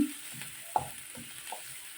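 Onion and garlic sautéing in cooking oil for an eggplant dish, a soft steady sizzle broken by a few scraping stirs, one sharper clack near the middle, fairly quiet and close.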